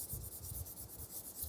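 Rapid back-and-forth rubbing of an eraser over a pencil cartoon drawing on paper, soft and close, in quick rhythmic strokes with no talking.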